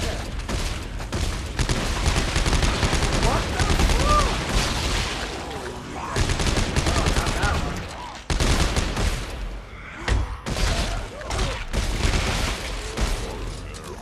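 Rapid bursts of gunfire and heavy booms in Dead Space 3 co-op as players shoot at Necromorphs, loud and dense with short pauses between volleys and mechanical clanks mixed in.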